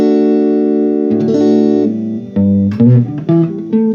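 Electric guitar played through a 1990 Fender Frontman reverb amp with reverb off and treble at half, a clean sustained chord giving way to several short picked notes and strums, loud and close.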